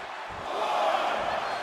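Capacity arena crowd in the WWE 2K25 wrestling video game, a steady, moderately loud roar of cheering that swells slightly in the middle.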